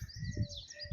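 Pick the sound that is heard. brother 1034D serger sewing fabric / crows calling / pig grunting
crows calling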